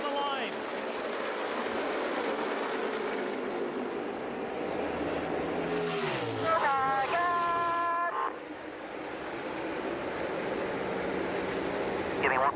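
The engine of Kyle Larson's No. 42 Chip Ganassi Racing stock car in 2017 drones steadily amid a loud race-track roar, with a high engine whine rising and falling as a car sweeps past midway.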